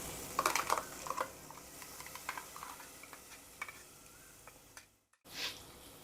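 Ground masala paste added to a frying pan with oil for suran bhaji, giving quick spoon clicks and stirring over a low sizzle, with a brief drop-out before the frying resumes.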